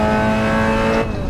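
A Mazda MX5 Cup race car in Assetto Corsa holds a loud, steady high engine tone, then downshifts near the end with a sudden drop in pitch and level. No voices are heard.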